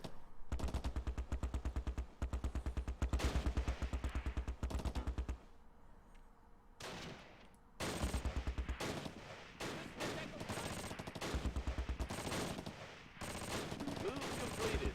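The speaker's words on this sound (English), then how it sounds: "there's just like a heavy machine gun team in there" Heavy machine gun team firing in the Close Combat war game, long rapid bursts of loud gunfire with a short pause midway and another bursts afterward, all continuous and close.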